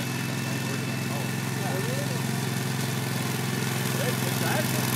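A Spider ILD02 remote control slope mower runs with a steady, loud engine drone that holds evenly throughout, with people talking over it.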